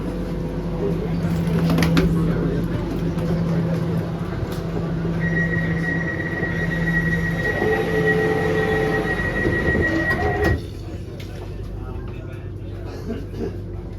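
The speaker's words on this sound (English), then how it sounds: "This is an Elizabeth line service to Heathrow Terminal 4 via Heathrow Terminals 2 and 3." An Elizabeth line train heads toward Heathrow Terminal 4, its loud rumble and rolling wheels carrying on while a steady tone sounds and an onboard announcement plays, then the train noise drops and settles near the end.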